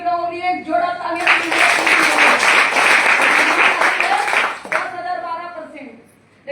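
Audience clapping at a gathering, a burst of applause from many hands that rises over speech, holds for a few seconds and then cuts off as talking resumes.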